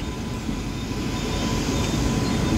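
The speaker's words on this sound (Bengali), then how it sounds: "এবং ইলেকট্রিক লোকোমোটিভ WAG 9HC" Loud, steady rumble and rattle of a train hauled by a WAG-9HC electric locomotive rolling past close by, the roar growing slightly toward the end.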